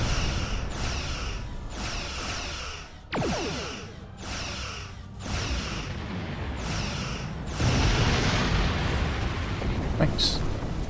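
Repeated booming torpedo blasts and whooshing bursts from the space combat game Star Trek Online, loud and closely spaced over a constant roaring background, building to a denser rumble near the end.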